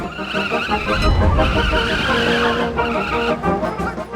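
Car tires skidding and squealing while drifting in the war video game Valiant Hearts, a loud continuous screech with engine noise running the whole time.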